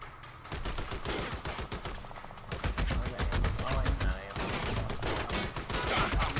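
Rapid gunfire from the third-person shooter Army of Two, with dense bursts of automatic weapons fire continuing loudly throughout, close and sustained, with brief dips before the shooting resumes; a voice talks underneath.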